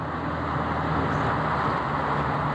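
A truck rumbles past on a road, a steady low engine and tyre roar holding at moderate loudness for a few seconds with no talk over it.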